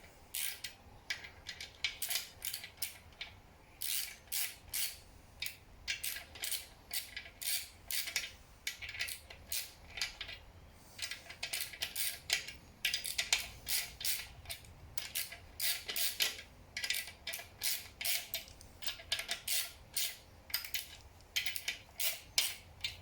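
Bolts on a Ford Essex engine bottom end are run up and nipped tight by hand, giving repeated bursts of quick metallic clicking and ratcheting, close and fairly quiet, with short pauses between runs.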